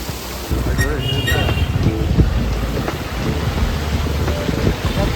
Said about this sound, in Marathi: पावसाने तुफाने सुरुवात केली